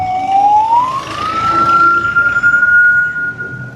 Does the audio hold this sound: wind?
no